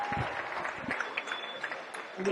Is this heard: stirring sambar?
no